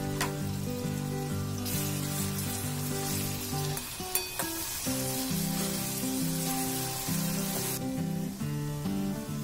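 Sliced onions frying with salt in a pan, a steady close sizzle with crackling spatter, broken briefly by a couple of stirring knocks.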